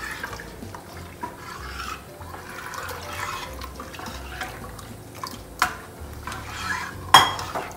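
A Sindhi kadhi is stirred in a pot after about two liters of water are added, giving steady sloshing and scraping with light clinks of utensil against metal and a sharper knock near the end.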